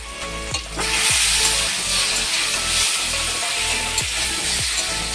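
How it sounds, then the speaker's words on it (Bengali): Boiled eggs that were already fried are tossed into a pan of potatoes and sautéed for egg biryani. It is a steady, loud sizzle with clattering stirs and scrapes of the spoon throughout. "সেদ্ধ করা ভাজা ডিমগুলো আলুর সাথে দিয়ে দেবো, দিয়ে আবার কষবো"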